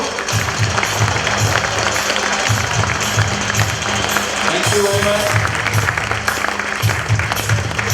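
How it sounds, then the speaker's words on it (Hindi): Loud, sustained applause from the audience at a labour registration and awareness program, dense clapping throughout with crowd noise and a brief spoken thanks partway through. "जोरदार तालियां दोस्तों।"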